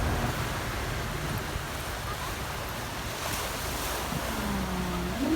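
Strong sea waves wash onto the rocky shore at Pandan, Bohol, a continuous rushing surf blended with heavy wind buffeting the microphone, with no one speaking.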